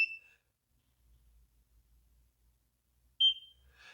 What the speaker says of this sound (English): when you apply the device correctly, you'll hear a beep.